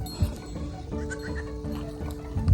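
Baby goat bleating on a small farm, a few short wavering cries close by with a livestock-like whinnying quality, over steady background noise and some movement.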